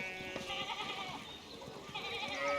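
Sheep bleat in the medieval village setting of the video game Pentiment, several wavering calls overlapping at moderate distance over a soft background bed.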